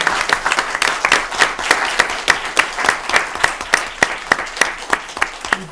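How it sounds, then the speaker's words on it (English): An audience claps for students honoured at a school committee meeting, with sharp, evenly spaced hand claps in a steady, fairly loud round of applause from a modest group in a meeting room. "why don't we give them one more round of applause"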